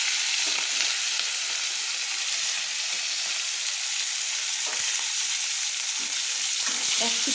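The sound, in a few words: two rohu fish heads frying in a pan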